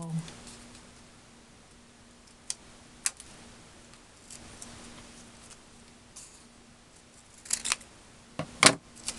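Scissors snip out a card piece for a Christmas fawn shaker card in a few close, sharp clicks, clustered toward the end over a faint steady hum.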